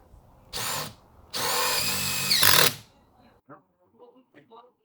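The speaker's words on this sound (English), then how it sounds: "Just to put some little screws in here and attach these rings to the barrels." A power drill drives small screws to attach rings to garden barrels, whirring in two bursts, one short and one longer, that rise in pitch, followed by soft handling clatter.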